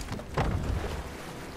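A boat glides through water in the video game God of War, a soft continuous rushing wash with a brief surge of splashing early on, close and unaccompanied by speech.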